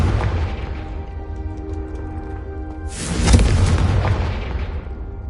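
A Confringo fire-blast spell explodes in the Hogwarts Legacy video game, a sudden broad burst that swells loud over a low rumbling game backdrop and then decays slowly.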